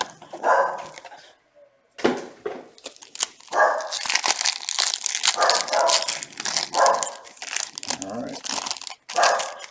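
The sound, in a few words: dog barking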